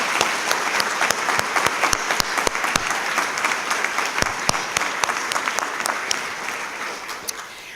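Loud, sustained audience applause for honorees at a state government awards ceremony, with sharp individual claps standing out from the dense clapping throughout.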